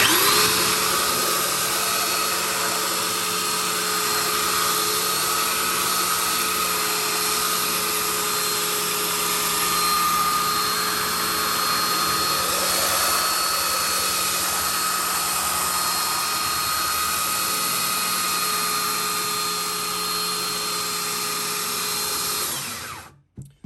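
A SKIL 7510-01 3x18 inch belt sander runs steadily on hard oak, a loud, sustained motor whine with abrasive hiss that holds nearly unchanged for over twenty seconds before cutting off at the end.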